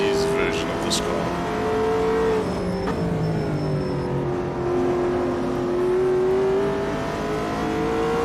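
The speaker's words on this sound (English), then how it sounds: "Racing some GT3 cars currently around Brands Hatch." GT3 race car engines at Brands Hatch in the racing game AMS 2, a loud, steady engine drone that dips and climbs through gear changes, with a voice talking over it.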